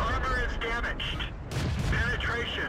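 A T-34 tier V medium tank's cannon and nearby tank fire, including a KV-1, thud in World of Tanks as heavy booms, with one strong blast midway, heard under someone talking.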